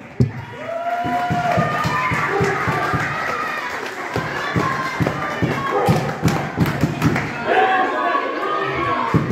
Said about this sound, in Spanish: quiero un aplauso para Mosco Junior,